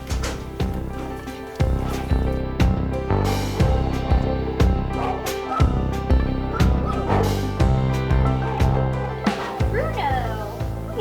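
Dogs at an animal shelter bark, yip and whimper in a busy, cluttered mix, with a steady run of repeated sharp bursts and people talking nearby.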